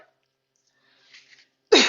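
A single short cough bursts out close by after near silence, with only a faint murmur before it.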